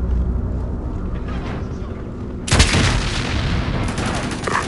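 Gunfire and a heavy booming blast in a Ghost Recon Advanced Warfighter firefight, a loud impact roughly midway followed by sustained noisy combat under a continuous rumble of battle, with a voice briefly heard.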